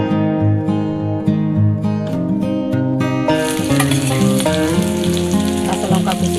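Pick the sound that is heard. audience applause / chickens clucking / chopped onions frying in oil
chopped onions frying in oil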